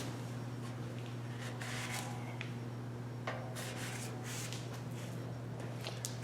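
Faint, irregular rasping strokes come from hand-sanding a 1974 Cutlass bumper, quiet scrubbing bursts over a steady electrical hum.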